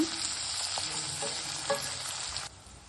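Chicken fries in a pan for restaurant-style chilli chicken, with a close, even sizzle and a few scraping stirs before the frying noise drops away near the end.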